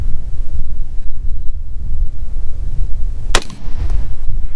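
A single sharp rifle shot from a 24-inch .223 AR-15 rings out at a long-range outdoor range with a crosswind, a loud crack standing out over steady wind rumble on the microphone.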